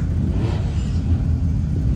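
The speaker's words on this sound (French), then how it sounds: "La voiture arrive au circuit de Brest." A Jaguar Mark II car engine rumbles steadily at close range as it arrives at a racing circuit, a low continuous motor drone with no voices.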